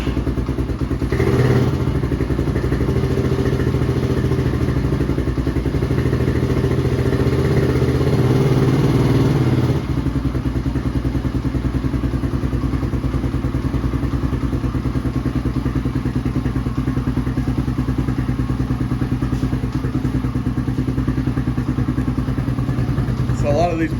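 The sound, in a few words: Tao Tao TBR7 dual sport motorcycle engine running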